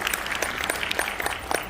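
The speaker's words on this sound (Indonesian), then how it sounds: "Tepuk tangan untuk kita semua." Applause from an audience at an Indonesian community event for women farmers, a dense wash of many hands clapping at moderate loudness through the short clip, with no clear talking over it.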